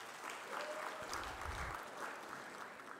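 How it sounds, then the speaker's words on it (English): Audience applause at an evening lecture, a fairly faint, steady patter of clapping from a room of listeners that runs the whole way, with a brief low thump partway through. "give yourselves a round of applause for being here"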